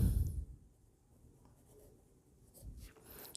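Pen or pencil writing by hand on paper during a Class 12 accountancy lesson on a cash flow statement, a soft continuous scratching, faint and close, with a louder thump at the start.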